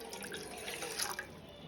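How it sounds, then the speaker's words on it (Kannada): A glass of water is poured into a cooking pot, a short splashing trickle with light dripping, close and fairly quiet, and no voices. "ಈ ಗ್ಲಾಸಲ್ಲಿ 1 ಗ್ಲಾಸ್ ನೀರು ಹಾಕೊಂಡಿದ್ದೇನೆ."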